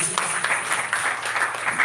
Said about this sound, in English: Please, a big round of applause to all our referees.